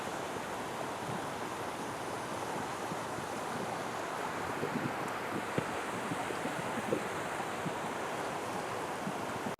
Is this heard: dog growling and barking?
no